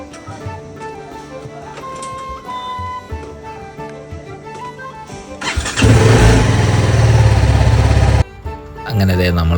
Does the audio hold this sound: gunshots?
no